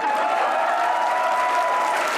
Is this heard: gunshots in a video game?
no